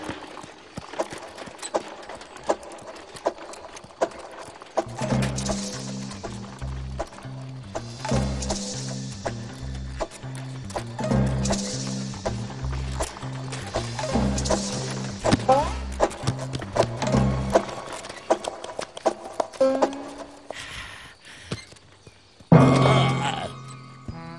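A cartoon horse's hooves clip-clop in a steady repeating rhythm, moderately loud, with voices talking over them in an animated show.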